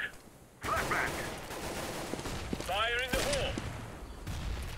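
Gunfire in the video game CS:GO: a dense burst of shots starts abruptly and keeps going, a bit distant, under a voice speaking over it.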